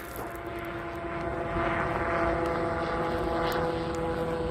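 An E-flite A-10 UMX radio-controlled model airplane flies nearby, its small electric motors giving a steady, continuous whine that grows slightly louder midway and holds without any voices.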